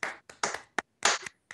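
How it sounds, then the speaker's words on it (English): A single person gives a slow, sparse golf clap, about half a dozen separate close hand claps with short gaps between them, in an otherwise quiet room. "Golf clap."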